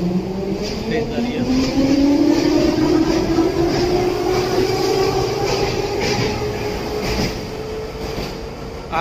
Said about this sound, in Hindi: ट्रेन जा रही